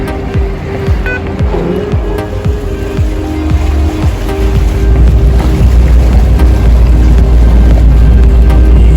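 A Venice vaporetto water bus engine rumbles loudly and steadily on a canal, with wind buffeting and water noise around it, growing heavier toward the end.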